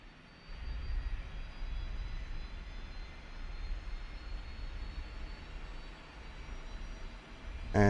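Auxiliary power unit spooling up on a FlightFactor Boeing 767-300F freighter in X-Plane 12, heard as a steady, loud low rumble and whine that holds throughout, ending in a sudden louder burst.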